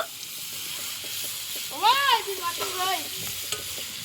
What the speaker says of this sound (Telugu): కలుపు కలుపు, జల్దీ కలుపు.